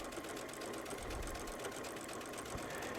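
A Baby Lock Solaris sewing machine with a walking foot runs steadily, a close, even mechanical hum with rhythmic needle ticking and no voices.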